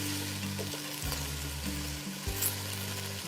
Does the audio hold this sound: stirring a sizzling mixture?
yes